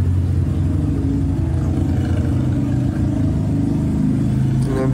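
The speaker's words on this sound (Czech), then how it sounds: "tady jezdí motorky" Motorbikes pass at night on a street in Chiang Mai, Thailand, making a steady, continuous engine rumble and whir with no break across the whole stretch.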